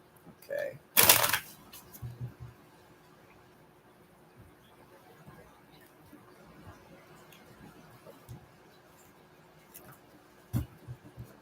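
Gold Tarot and In the Shadows Oracle cards are shuffled in one brief, crisp burst near the start. Quiet rustles and small taps follow in a calm room.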